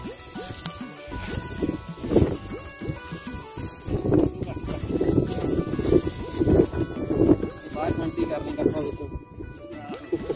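Cool wind gusting across an open farm field during garlic cultivation, rumbling and buffeting the microphone in uneven waves while people talk nearby.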